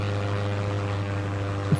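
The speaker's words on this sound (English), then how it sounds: "The plane tilts precariously as one engine fails completely." A steady, droning aircraft engine hums with a deep tonal propeller whine, a continuous loud cabin-like rumble with no talking, representing a plane whose engine is failing.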